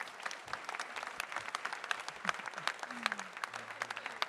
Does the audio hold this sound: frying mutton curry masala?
no